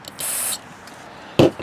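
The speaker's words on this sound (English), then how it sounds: "We spray it out one final time." Spray cleaner blasting out the carburetor bowl of a snow blower: a short, sharp hissing burst, a pause, then a second brief, louder blast at close range.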